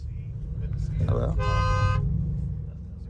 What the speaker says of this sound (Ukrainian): трішки посигналь